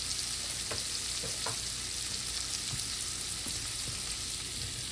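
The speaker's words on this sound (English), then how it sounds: "I'm gonna let these cook until they, get a little transparent" Onions fry in a pan with a dense, constant sizzle, a few stirring clicks and pops breaking through the steady hiss.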